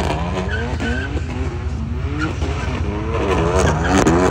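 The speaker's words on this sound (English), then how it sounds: "he loves doing donuts" A Corvette spins donuts, its tires skidding and squealing continuously over a loud, droning engine for a few seconds, close and without any talking.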